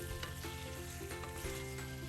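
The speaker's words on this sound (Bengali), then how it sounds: "অনেক ভালো মতো করে কষিয়ে নিলাম মাংসটাকে" Chicken meat sizzling steadily in a pan while being cooked down for a home-style kosha chicken curry, with a continuous close frying hiss and occasional stirring scrapes.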